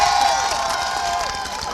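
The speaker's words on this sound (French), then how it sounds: "Applaudissez quand même" A crowd of schoolchildren and adults at a school event in Mali cheer, shout and whoop, with applause mixed in, in a loud, dense, continuous wash of voices.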